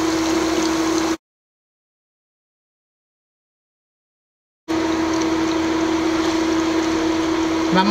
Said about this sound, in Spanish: vamos a empezar a vaciar las papas